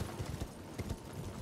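Hooves clip-clop rhythmically as a horse gallops in Elden Ring, a steady, moderately quiet beat with no voices.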